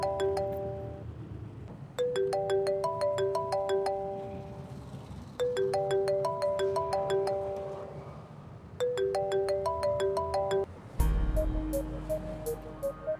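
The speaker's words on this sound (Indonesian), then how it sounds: "HP saya bunyi" A mobile phone ringtone rings in repeated bursts of bright descending chime notes, several cycles in a row, clear over low rumbling background noise before a different tone takes over.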